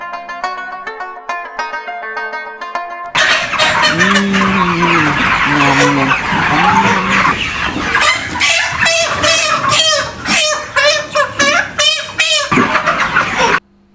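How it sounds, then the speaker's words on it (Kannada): Live chickens cluck and squawk in a poultry shop, a dense, continuous flurry of bird calls that follows a few seconds of melodic music at the start. "ಸುಲೇಮಾನ್ ಬಾಯ್, ನಮ್ ಗೌಡ್ರಿಗೆ ಒಂದ್ ಕೋಳಿ ಬೇಕಾಗಿಟ್ಟಲ."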